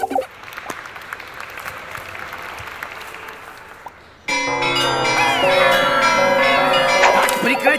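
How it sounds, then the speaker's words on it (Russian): Carillon bells ring from the tower of St. Rumbold's Cathedral, one of two 49-bell instruments, a loud bright cascade of overlapping pitched tones that bursts in midway after a softer crowd-like wash of noise. "Сыграю вам на карильоне."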